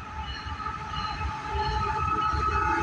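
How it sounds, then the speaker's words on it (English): An intermodal freight train hauled by BNSF locomotives on a Norfolk Southern line rolls past with a steady, loud rumble and rail hum that swells slightly partway through, with no talking. "It's an intermodal train."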